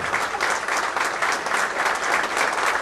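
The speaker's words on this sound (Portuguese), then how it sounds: "Essa merece aplauso de pé mesmo." Steady, dense applause from an audience, many hands clapping continuously at a fairly loud, even level without any talking over it.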